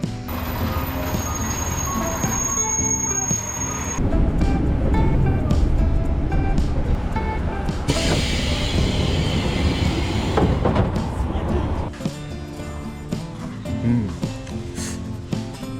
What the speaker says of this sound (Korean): 근처는 아닌데 열차 타고 가야 됩니다